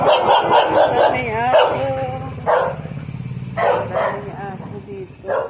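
A dog barks in loud bursts close by with whiny yips in between, while a person talks over it outdoors near a street.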